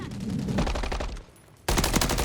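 Rapid automatic gunfire in the video game Call of Duty Modern Warfare 3, loud dense bursts that pause briefly and then resume abruptly at full intensity.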